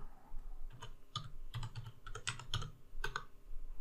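Keys clatter on a computer keyboard in quick, uneven bursts of close clicks, typing a command on a Windows Server 2019 machine, with no voice over it.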